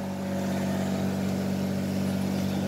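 Steady, moderately loud machinery hum and droning whir at a car wash, a constant noise with no pauses and no talk.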